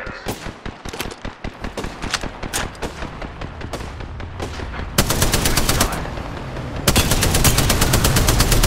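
Video game gunfire, with rapid single shots cracking in an irregular rhythm before sustained loud automatic bursts take over, dense and close with no talk.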